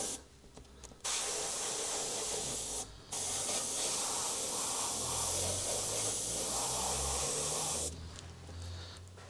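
Airbrush spraying transparent black paint for a torn-metal effect, a steady close hiss that runs almost the whole time, with short pauses near one and three seconds and a softer tail at the end.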